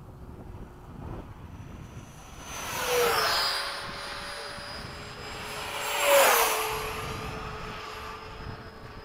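A radio-controlled model F-15 jet in formation flight, with two engine roars swelling and fading as it makes fast passes overhead, pitch sweeping down with each flyby, over steady outdoor wind noise.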